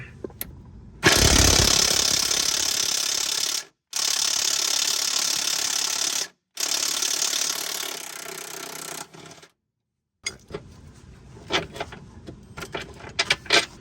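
A ratchet wrench clicks in long, fast, steady runs while loosening bolts on a Ford Focus front lower control arm, loud and close, with brief pauses between runs and lighter metallic clinks at the end.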